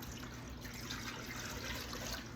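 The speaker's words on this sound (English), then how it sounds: "All right, so we're gonna pour that into our pot." Dandelion liquid pours into a pot during jelly making, heard as a faint steady trickle and splash for a couple of seconds.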